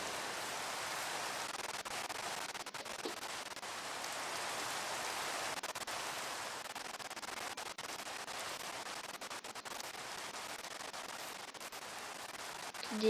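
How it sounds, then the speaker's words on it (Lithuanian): Steady rain in the Minecraft video game during hardcore survival play, a soft, even hiss of falling drops holding level for about thirteen seconds with faint scattered taps and no voices. "Lyja."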